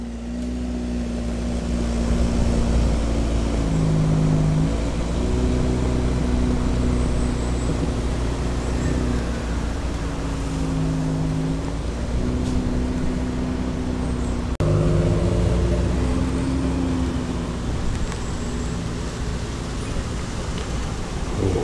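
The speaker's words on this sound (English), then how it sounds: "All manner of older cars are queuing up to get in now." Older classic cars idle and creep forward while queuing to enter a classic car show at Bodrhydd in North Wales, their engines producing a steady low rumble that swells and eases as vehicles shift, with no voices.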